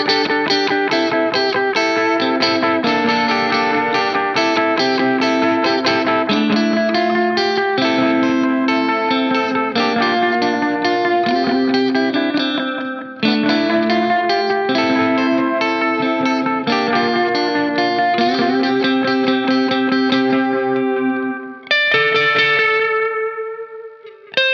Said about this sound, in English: the echo control, which sets the delay time ranging from 87 milliseconds to 520 milliseconds